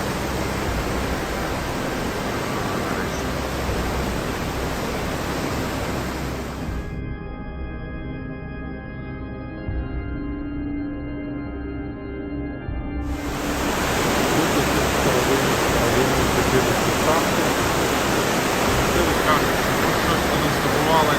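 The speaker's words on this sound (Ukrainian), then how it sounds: "Досить багато таких тонких стрімків, що просто ці скелі змочують ці віки" Steady broadband rush of thin water streams running down the rock walls of the Aare Gorge in Switzerland, with a brief quieter gap midway before the rushing returns louder.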